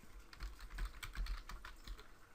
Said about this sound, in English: I'm typing to remind myself about that